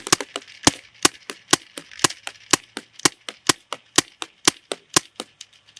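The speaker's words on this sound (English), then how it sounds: "we're shooting some pretty brittle paint right now" A Dye DLS paintball gun fires brittle paintballs in a rapid string of about twenty sharp, evenly spaced pops, close and loud, with no voices over the shots.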